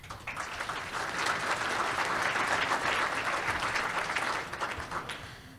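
Audience applause at a science summit on a disease concept, a steady, dense wash of many hands clapping in a hall, sustained for several seconds before tapering off slightly near the end.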